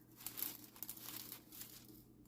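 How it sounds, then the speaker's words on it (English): Sheets of wax paper being laid out on a craft table crinkle and rustle softly in short, close crackling bursts, with no one talking. "I have some wax paper down here."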